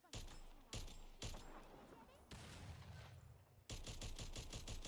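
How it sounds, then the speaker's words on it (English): Rapid gunfire from the video game Strinova, likely an assault rifle, comes in several sharp bursts with brief gaps, the last second packed with fast repeated shots, loud and close. "He's really whiffing shots though."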